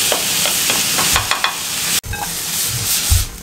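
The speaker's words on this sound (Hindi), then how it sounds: "हल्का सा फ्राई कर लें इसको" Chopped carrot, capsicum and green chillies fry lightly in a pan, giving a bright, close sizzle broken by repeated scraping strokes of a stirring spoon.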